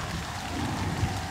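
Steady rain from the farming video game Harvest Moon: Light of Hope, a continuous dense hiss of falling drops with a faint low rumble beneath, even and unbroken throughout.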